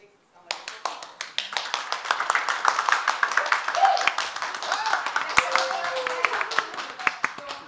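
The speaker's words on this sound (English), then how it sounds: "what we want to do is clap loud, clap fast" Studio audience at a live radio hour clapping loud and fast, a burst of sharp, rapid hand claps starting abruptly and building into dense, close applause, with scattered voices underneath.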